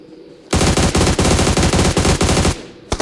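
Loud, sustained machine gun fire in the battle royale game PUBG, one rapid continuous burst of about two seconds, then a brief pause and a short final volley.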